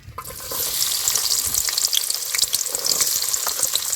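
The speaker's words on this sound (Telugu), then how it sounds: "నూనె అయితే కాగేది ఉల్లిగడ్డలు వేసుకుందామండి" Onions fry in hot oil for a village-style chicken pulusu, giving a steady, loud, close crackling sizzle throughout with scattered pops and no voices.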